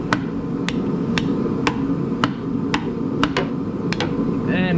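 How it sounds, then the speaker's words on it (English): Heavy hammer blows knock out a worn front engine mount on a 1988 Dodge Daytona, about a dozen sharp metallic strikes at a steady, slightly uneven pace, close and loud over workshop background noise. "We're going to take a hammer."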